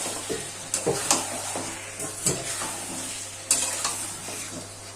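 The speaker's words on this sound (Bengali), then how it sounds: "মশলার জলটা দিয়ে দিলাম দিয়ে আবার ভালো করে নাড়াচাড়া করে দেবো" Chicken is stirred in a frying pan after spice water is added, with a steady sizzle and sharp spoon scrapes and clinks against the pan at irregular moments, heard without talk.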